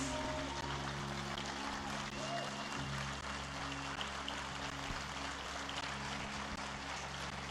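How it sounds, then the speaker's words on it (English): Standing ovation at a memorial celebration of life, a dense, steady wash of clapping from a large crowd continuing throughout, with a low hum underneath. "On l'applaudit encore plus fort. Standing ovation, please."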